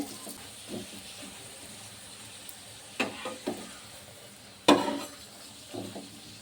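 Sugar paratha frying in white oil: a soft, steady sizzle runs throughout, broken by a few sharp clinks and scrapes of a spoon against the pan, with louder knocks near the middle and end.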